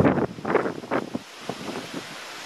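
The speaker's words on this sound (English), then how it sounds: "it's windy." Wind gusting outdoors at sunset in Australia, a rough rushing buffet against the microphone that swells and fades in uneven bursts, close and moderately loud with no voices.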